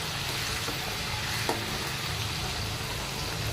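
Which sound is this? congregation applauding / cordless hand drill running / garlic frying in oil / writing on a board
garlic frying in oil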